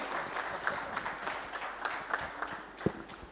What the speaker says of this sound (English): Please clap for Major.